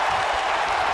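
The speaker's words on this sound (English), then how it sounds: "This capacity crowd is beside itself." Dense capacity crowd cheering in the WWE 2K19 wrestling video game, a steady, loud, continuous roar of applause and shouting that fills the whole second with no gaps.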